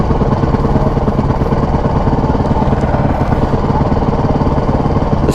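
A motorcycle engine runs loud and close, with a steady, rough, fast-pulsing drone that holds unbroken and never changes pitch.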